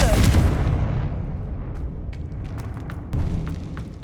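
A Confringo fire spell goes off in Hogwarts Legacy, played on PS5, as one loud, deep blast that rumbles and fades, followed by scattered small crackles and pops, with no voices.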